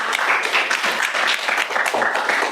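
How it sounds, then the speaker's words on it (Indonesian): Classroom applause for student groups after an economics lesson presentation, a short burst of many hands clapping close by, with slightly uneven pulses. "sekali lagi tepuk tangan bagi kita semua"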